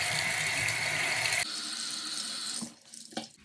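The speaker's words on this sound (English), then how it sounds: "So I usually wet it with warm water" Warm water runs from a faucet to wet a makeup blending sponge, a loud steady gush that softens midway, then cuts off into a few wet squeezes and drips.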